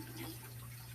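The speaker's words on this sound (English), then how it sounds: "we're going to keep running the water until it is halfway full" Tap water runs steadily into a kitchen sink being filled for washing dishes, a soft continuous rush with no voices.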